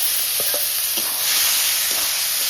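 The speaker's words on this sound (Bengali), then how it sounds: "একটু জিরে দিয়ে দিচ্ছি।" Cumin seeds sizzling in hot oil in a pan, a bright continuous hiss of frying with a few faint crackles and stirring touches.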